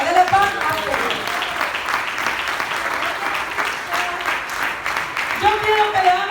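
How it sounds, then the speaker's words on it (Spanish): A church congregation applauds steadily and loudly throughout, a dense sustained clapping with voices mixed in. "Dele palmas a Dios."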